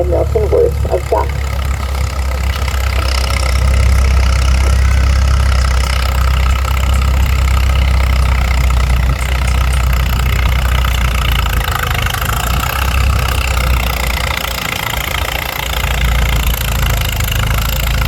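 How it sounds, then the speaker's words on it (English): A 1951 Minneapolis Moline GTB gas tractor pulling a 10-bottom gang plow at a threshermen's show runs loud and steady throughout, its low engine drone constant with a brief voice near the start. "Tractor on that is a 1951 Minneapolis Moline GTB gas tractor"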